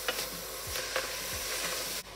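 Bolognese sauce with minced meat is stirred in a frying pan, a soft sizzle under a few scraping utensil strokes, fairly quiet and close, with no speech.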